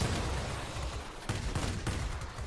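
Cannons fire in short bursts, heavy rapid gunfire filling the whole span with brief breaks between volleys, loud and close.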